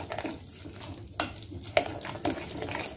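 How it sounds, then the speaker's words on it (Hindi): A spoon stirs vegetable appam batter with onion, grated ginger and salt in a bowl, making soft wet stirring with a few sharp clicks against the side, close and faint. "अभी मैं मिक्स कर लूंगी"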